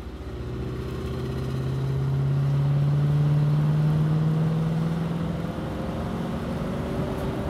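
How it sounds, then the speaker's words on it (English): A 1964 Ford Galaxie XL 500 convertible with an optional 352 four-barrel V8 and dual exhaust, driving along with a deep steady engine drone that swells as it pulls and then settles into a smooth cruise. "It's a dual exhaust, sounds really good."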